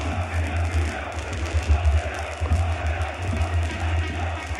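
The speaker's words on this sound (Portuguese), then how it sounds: "Em menor número, eles têm que cantar, gritar mais alto para se equivaler aos 19 mil torcedores do Tigre." Chapecoense football supporters in a stadium crowd sing and shout together in a steady, loud mass of voices with a booming low-end rumble, swelling briefly but never dropping out.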